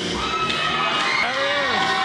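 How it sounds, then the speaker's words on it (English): Crowd of girls and kids screaming and cheering at a boxing event, loud continuous shrill shouts and whoops from a packed venue filling a brief moment. "I can't hear nothing with these girls and kids screaming"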